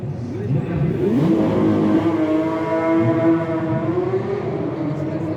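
Porsche engine at a city-centre parade before the Le Mans 24 Hours, revving loudly close by with a rising, sustained whine and deep rumble, and a voice briefly heard under the noise.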